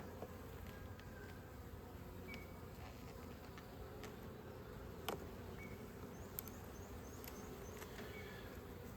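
Honey bees buzz faintly and steadily around an open hive during an inspection, a soft continuous drone with a few brief clicks and knocks.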